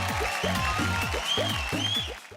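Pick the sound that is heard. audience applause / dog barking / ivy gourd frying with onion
audience applause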